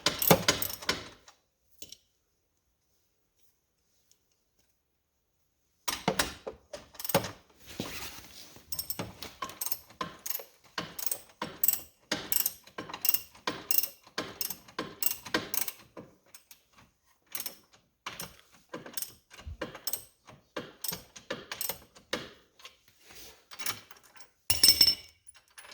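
A ratchet strap is cranked to tie down a Can-Am Outlander ATV fitted with tracks, giving rapid runs of sharp, close clicks in irregular bursts after a few seconds of near silence.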